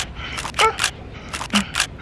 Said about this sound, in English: Let me take a selfie.